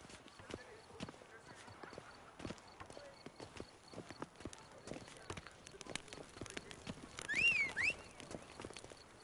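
Hooves of the horse Roach clip-clop in a steady rhythm in The Witcher 3, with a brief whinny near the end and game voices talking over it.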